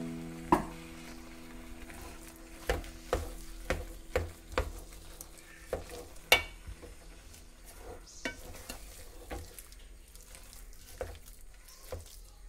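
A spoon stirs and mixes kappa (tapioca) biriyani in a pan, giving scattered, irregular scraping knocks over a soft background sizzle, close and fairly quiet, with no talking.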